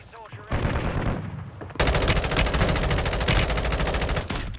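Rapid full-auto gunfire from an M16 in Call of Duty Warzone on Rebirth Island, with dense bursts of machine-gun shots that fill most of the clip, loud and continuous after a short lead-in.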